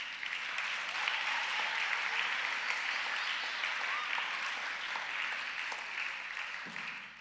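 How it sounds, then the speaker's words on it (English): Steady applause from a large crowd at a school convocation, continuous and fairly even throughout, tapering slightly at the end. "Round of applause for them, please"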